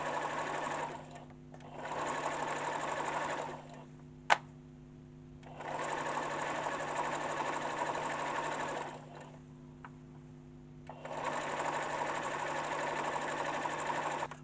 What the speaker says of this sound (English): So I'm gonna stitch the binding right around the whole ironing board cover.